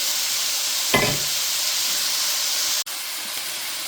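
Onions, green onions and celery sizzle steadily in a hot pan, a constant broad hiss running throughout with a brief stirring scrape near the start.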